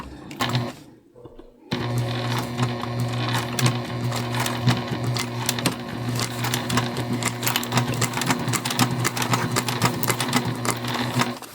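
A Juki TL2 sewing machine stitches a drawstring backpack in a long, steady, close-up hum with rapid needle chatter, after a brief pause near the start.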